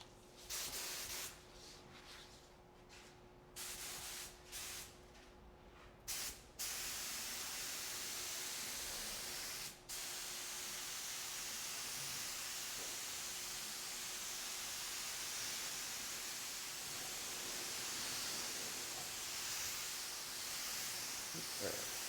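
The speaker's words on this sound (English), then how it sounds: "So I'm going to shoot snow white milk paint first." A spray gun sprays milk paint with a steady, even hiss that runs without a break after a few short bursts at the start, close and continuous.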